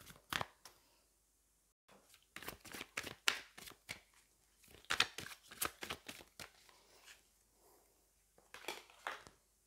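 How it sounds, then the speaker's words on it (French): A tarot card is drawn from a deck. Close, crisp papery snaps and slides of handled cards come in quick bursts with short quiet gaps, and no one speaks. "Allez, je vais prendre une carte de plus."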